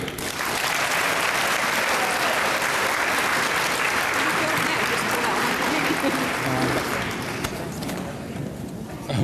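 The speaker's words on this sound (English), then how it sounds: "let's end it with everybody clapping once" A crowd at a cancer survivor dinner applauds loudly and continuously for several seconds, a dense wash of clapping that thins slightly toward the end.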